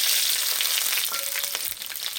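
Onion sizzling in a spoonful of hot ghee in a kadai, a steady, close, dense frying hiss that runs unbroken throughout, with no voices.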